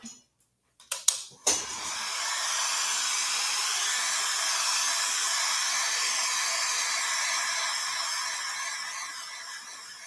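Dryer blowing on paste spread over a Halloween decoration: a few brief knocks, then a constant airy hiss that holds steady for several seconds before easing slightly.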